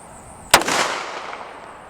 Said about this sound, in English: up next, Smith & Wesson M&P with a 230 grain solid cast